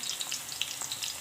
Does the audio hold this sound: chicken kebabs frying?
yes